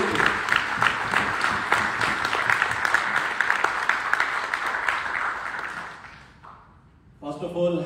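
Sustained audience applause fills a hall at a Vestige anniversary gathering in Thailand, dense, steady clapping from many hands that fades out near the end, followed by a brief spoken voice.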